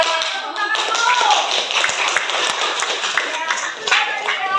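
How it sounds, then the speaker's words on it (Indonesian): Group of students clapping hands in a classroom lesson, brisk irregular claps mixed with chatter and a teacher's voice over it. "Tepuk tangan dulu."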